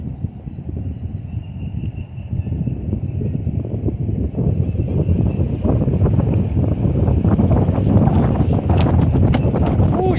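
Strong wind buffets the microphone out on a fishing boat, a loud, steady roar that builds slightly and continues throughout, with no voices over it.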